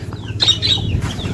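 Budgerigar parrots flap their wings close by in a quick fluttering burst, with thin chirps mixed in over a low background rumble.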